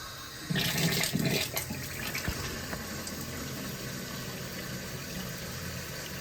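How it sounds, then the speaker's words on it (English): Hot water rushes steadily into a Simpson wringer washing machine, a constant filling hiss that starts loudly with some splashing and clunks, then settles into an even flow. "Alright, I'm going to use some hot water."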